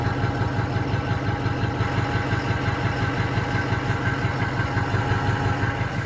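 A Ford 6.0 Power Stroke diesel idles roughly, apparently firing on only six cylinders, with stock exhaust and a crank-no-start fault history; a steady, loud, close low rumble with an uneven pulsing beat runs throughout.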